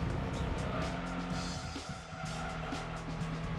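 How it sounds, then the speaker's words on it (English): A Ford Model T driving a test course in Gran Turismo 2: a steady, droning engine hum with tire squeal and skidding, continuous and fairly close, with a brief dip partway through. "You ever driven a freaking Ford Model T around test course?"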